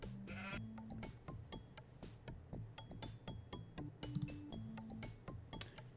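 Goat bleating in the video game Museum Madness, set in a Late Stone Age village, with repeated bleats over a ticking background loop, close and clear with no talk.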